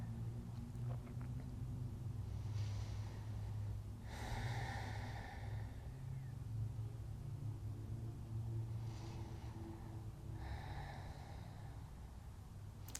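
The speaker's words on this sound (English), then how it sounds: "Take some deep breaths." Slow, deep breaths drawn in and let out during a gentle stress-relief yoga flow, three or four soft airy breaths spaced apart, close and quiet over a low steady hum.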